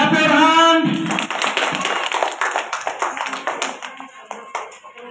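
A class of young schoolchildren claps for competition winners at a school prize announcement, a loud burst of many hands that thins into scattered uneven claps, with a voice at the start.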